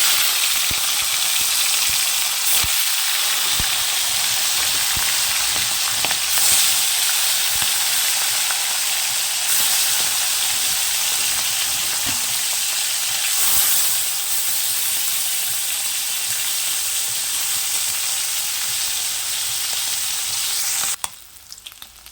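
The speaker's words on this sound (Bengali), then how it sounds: "তেল গরম হয়ে গেছে, আমি এখন মাছটা দিয়ে দেবো।" Fish frying in hot oil in a home kitchen, a loud, steady sizzle and hiss running continuously for the whole stretch, with a few brief clicks and a sudden drop near the end.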